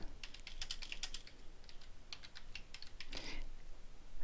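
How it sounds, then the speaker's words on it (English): Keys clacking on a computer keyboard as a book title is typed into a library search box, a quick irregular burst of close, light taps that pauses and then resumes with a final flurry. "Type the title in the search box"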